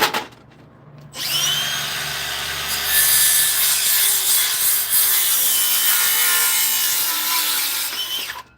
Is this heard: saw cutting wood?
yes